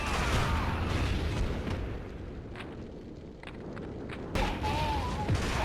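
A grenade explosion in a PSP video game, a heavy rumbling blast that fades into a low roar, then a second burst of rumble near the end.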